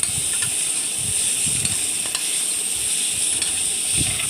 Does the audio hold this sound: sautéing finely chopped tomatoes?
yes